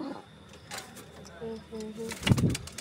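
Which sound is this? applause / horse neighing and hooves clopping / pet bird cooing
pet bird cooing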